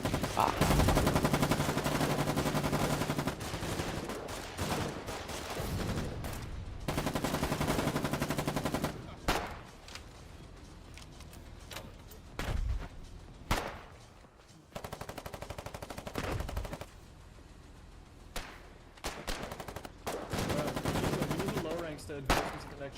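Foxhole video game combat with bursts of machine-gun fire and rattling gunshots, loud sustained volleys broken by short gaps and isolated shots over about twenty seconds.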